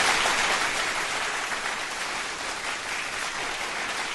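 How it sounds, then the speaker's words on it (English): A crowd's applause plays as a steady, dense wash of clapping for about four seconds, fairly loud and unbroken, with no voices over it. "How about we give you a big round of applause?"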